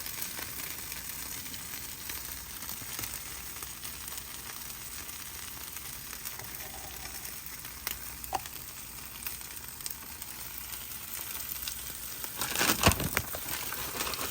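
Cheese-topped birria tacos fry in a pan with a soft, steady sizzle and faint crackle, a brief louder burst of crinkling near the end, no voices.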